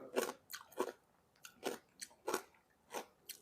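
Someone bites and chews crunchy mountain shrimp close to the mic, making about seven sharp, crisp crunches in an irregular rhythm with quiet gaps between them and no talking.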